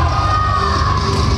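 A loud arena crowd at a professional wrestling show keeps up a dense, continuous roar of cheering and shouting in support of wrestler Shawn Rife.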